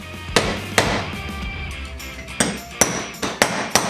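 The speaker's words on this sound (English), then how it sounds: "I just used a block of steel and a hammer." Sharp metallic hammer blows on a steel block seat the front main seal of a 1997 7.3 OBS Powerstroke diesel, about eight separate strikes at uneven intervals, close and loud with no talking.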